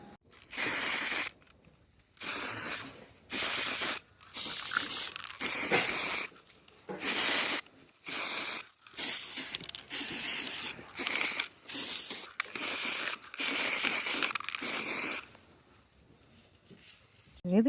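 Halloween decorations get spray painted with an aerosol can in a series of short hissing bursts, each lasting about a second, separated by quiet gaps, close to the listener.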